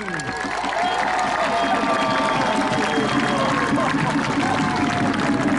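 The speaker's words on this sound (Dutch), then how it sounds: "Geef hem een geweldig applaus, Willem!" A crowd at a carnival opening claps and cheers at length, with voices calling out over the steady applause.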